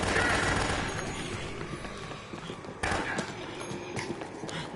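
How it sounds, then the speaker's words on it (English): Rapid, loud machine gun bursts rattle continuously from an enemy gunman on a mall food court balcony in the video game Dead Rising, with a sharper fresh burst kicking in midway and no pause in the fire. "He's got a machine gun."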